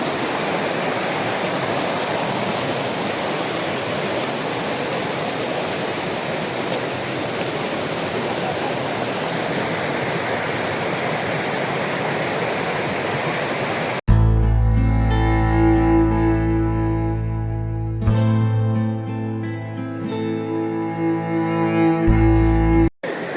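Pahine Waterfall in a forest of rock and trees, swollen with water, gives a steady, dense rush that fills the first fourteen seconds before a sharp cut to loud, tonal music.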